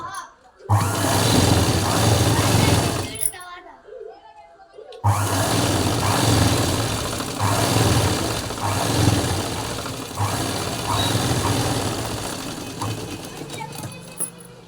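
A sewing machine stitching piping onto a blouse sleeve runs in a loud, continuous whir, stops briefly for a couple of seconds, then resumes and hums steadily to the end.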